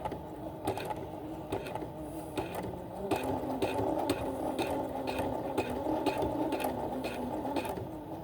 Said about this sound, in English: you guys aren't even looking at the sewing machine.